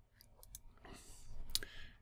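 A computer mouse clicking during software work: a single crisp, close click near the end of a quiet stretch with a low background hum.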